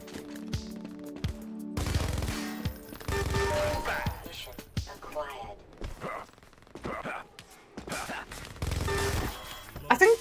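Video game gun fired sideways in bursts of rapid shots, loud and close, separated by short gaps, with a person talking between the bursts.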